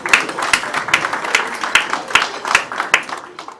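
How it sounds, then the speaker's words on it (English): Audience applause at a farewell dinner for an Access Bank executive, a steady wash of many hands clapping with evenly spaced sharper claps standing out, moderately loud and continuous. "A round of applause for her."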